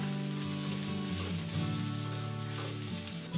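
Crushed ginger and garlic fry in a hot pan with green chillies, giving a steady, close sizzle that crackles on without a break.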